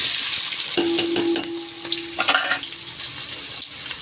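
Onions sizzle in hot oil with whole dry spices for Arabian kabsa rice, a dense close frying crackle broken by stirring clatter and a brief tonal ring from the pan.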